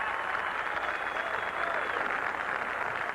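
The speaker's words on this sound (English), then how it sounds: "Taking the applause of the crowd" Spectators at the 1982 US Open golf championship applaud a player walking up the 18th hole, a steady, distant wash of clapping that holds evenly without a break.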